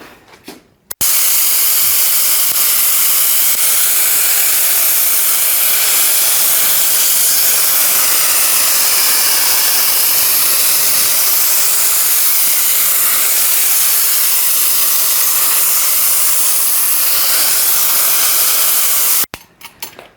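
Tilswell Pinto paint sprayer laying down a heavy coat: a loud, steady rushing hiss that runs about eighteen seconds without a break, with a click at the start and end, and no talking.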